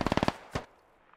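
In SquadOps, a fast burst of about five gunshots rattles out, then one more heavy blast follows a beat later and fades to quiet.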